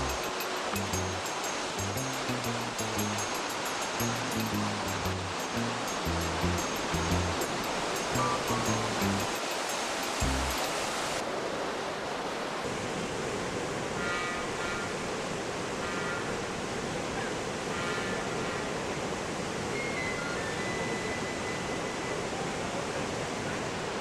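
The Dudh Kosi river rushes below suspension bridges in the high Himalaya, a dense, continuous roar of water that holds steady throughout. Faint music sits over it at first.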